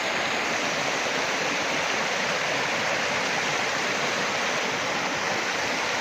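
A natural village waterfall in Mardin pours steadily, a dense unbroken rush of water that fills the scene at even loudness with no voices or other sounds.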